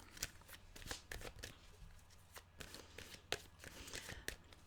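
Tarot cards being shuffled by hand in a steady run of riffling, papery slaps and swishes, close and clear, with no talking.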